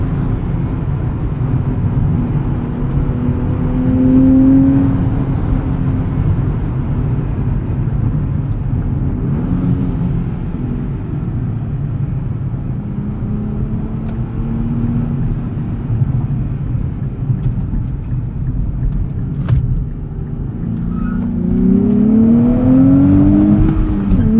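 2023 Nissan Z sports car engine heard from inside while driving, a loud steady drone with road rumble and a few rising revs as it accelerates, no talking.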